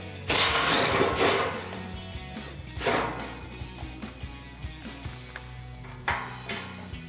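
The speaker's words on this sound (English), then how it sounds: "go ahead and remove that with a 12mm socket" Mechanical ratcheting and metallic clicks as a 12mm socket backs out a skid plate bolt under a 2005-2023 Toyota Tacoma, a run of rapid clacks followed by scattered taps and a few louder thuds, close up with no talking.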